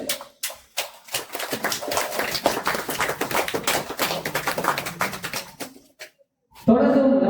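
An audience at a temple hall opening applauds as a plaque is unveiled. The crisp clapping starts with scattered claps, swells into a busy sustained round and then fades out, followed by a brief louder burst of other sound.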